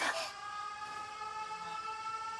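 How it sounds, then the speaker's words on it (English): A steady, droning air raid siren in the video game 13 Sentinels: Aegis Rim sustains a single tone after a brief noisy start, moderately loud and unbroken. "Air raid alarms have been sounded."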